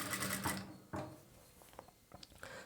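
Sewing machine stitching a plain blouse: a short burst of close, fast mechanical whirring at the start, then scattered clicks and knocks of handling, fairly quiet.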